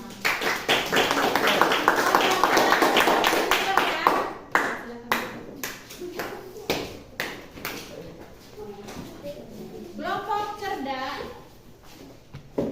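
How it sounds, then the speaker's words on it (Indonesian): A class claps for a group of students, a burst of sharp, dense clapping that fades into scattered taps, followed by a teacher talking. "tepuk tangan untuk kelompok luar biasa"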